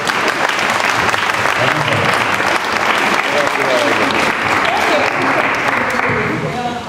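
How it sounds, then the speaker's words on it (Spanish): Sustained audience applause at a tribute to the cheese makers of Grau fills the space with dense, steady clapping, loud and continuous, with voices mixed into the crowd noise. "Hay que darle un aplauso"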